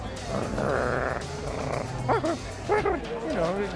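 A person imitates a dog barking, giving a few short voiced woofs with rising and falling pitch over a background murmur.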